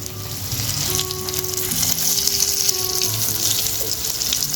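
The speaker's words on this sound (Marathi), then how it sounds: "आता आपण सगळेच जे पीस आहेत ते दुसऱ्या बाजूने छान तळून घेऊ" Coated Rawas fish pieces fry in a pan with a loud, steady, continuous sizzle and crackle that runs unbroken from start to finish.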